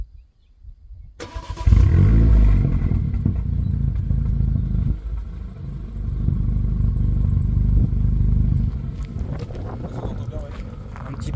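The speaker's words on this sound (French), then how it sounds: "Est-ce que tu nous feras un petit démarrage?" A Renault Mégane 3 RS engine fires up after a brief quiet start, settling into a loud, close idle with a couple of throttle blips and a rising rev near the end, while people talk over it.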